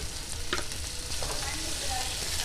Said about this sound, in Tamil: தக்காளி சேர்த்துட்டு நல்லா கலந்து விட்டுருங்க.